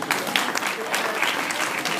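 Steady applause from an audience at a Diwali Hindu temple show in a hall, a dense patter of clapping holding level for a couple of seconds with a voice faintly underneath.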